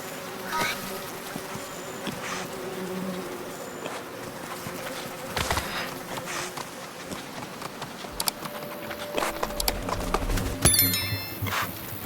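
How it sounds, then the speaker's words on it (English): Bees buzz around a beehive in a tree in a video game, a faint insect hum with scattered chimes and light tapping effects layered over it, building toward the end. "The beehive in the tree made his mouth water"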